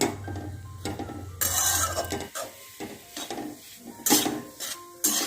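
Mava (khoya) being stirred and roasted in ghee in a pan for Gujarati adadiya pak: a spoon scraping and clanking against the pan in uneven strokes over a soft sizzle, close and clear, with no talking.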